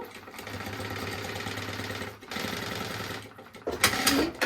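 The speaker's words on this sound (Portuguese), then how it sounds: "Aqui a gente vai costurar na margem de 1 centímetro" A domestic sewing machine stitches fabric for a baby organizer, a steady close mechanical whir with rapid rhythmic needle clatter, pausing briefly midway before resuming, then a louder burst of brief rattling at the end.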